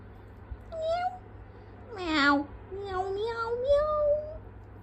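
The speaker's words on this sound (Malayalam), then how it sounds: "അവിടെ പൂച്ചക്കുട്ടി വന്നു. പൂച്ച" A kitten gives several high, wavering meows in a row, one longer and louder cry in the middle, close by over a low hum.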